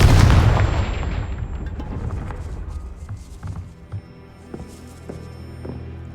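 Confringo, an explosive fire spell in Hogwarts Legacy, detonates in a loud, close boom that rolls off into a long fading rumble, followed by scattered smaller thuds and crackles.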